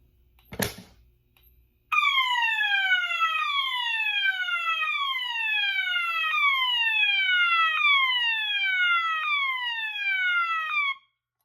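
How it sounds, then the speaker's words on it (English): After a click of a fire alarm pull station, a System Sensor MA horn on an FCI FC-73 fire alarm panel blares a repeating, steady series of loud falling whoop tones for about nine seconds, then cuts off abruptly. "Now let's activate this Blue Point pole station and sound the MA horn."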